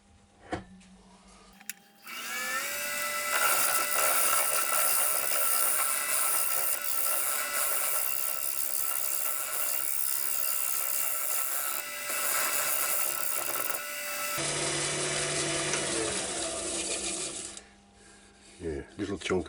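A woodturning lathe spins a glued-up blank while a tool scrapes the excess glue off and faces the wood flat, producing a steady, close, rasping hum with a continuous whine that runs for about fifteen seconds before easing off.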